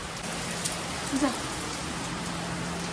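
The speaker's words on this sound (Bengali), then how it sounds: "সেকেন্ডে সেকেন্ডে বৃষ্টি নামছে" Rain falls in a steady, soft hiss of drops, with a faint murmur beneath.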